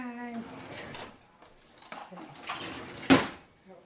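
A spoon clinks and rattles among kitchen utensils and dishes while tuna fish is prepared, with scattered light clatter ending in one sharp metallic clink, close and brief.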